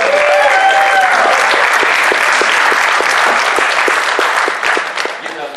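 Loud, dense applause and cheering from a convention crowd at Anthrocon 2018, welcoming a performer onto a stage, with steady rhythmic clapping beneath that fades slightly at the end.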